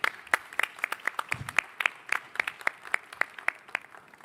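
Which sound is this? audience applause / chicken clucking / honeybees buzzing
audience applause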